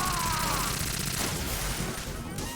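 A rapid burst of rifle gunfire from Metal Gear Solid 2 rattles through a dense, continuous game mix, loud and sustained across the whole moment.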